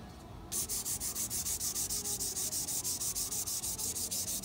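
Rhythmic back-and-forth sanding of ebony wood with 320 grit sandpaper in a luthier's crack-repair workshop, steady close strokes about four per second starting after a brief quiet moment, with no talk.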